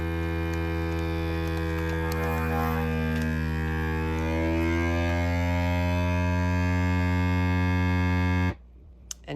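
A vacuum sealer pulls the air out of a bag holding ham, giving a loud, steady motor hum with buzzing harmonics for about eight seconds before it cuts off abruptly.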